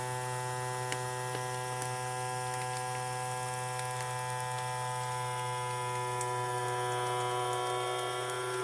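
Vacuum sealer pulling air from a bag of wet radishes, a steady electric motor hum with a constant buzzing drone, close and even throughout with no voices.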